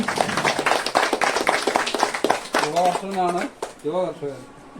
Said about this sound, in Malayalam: വലിയ കൈയടി.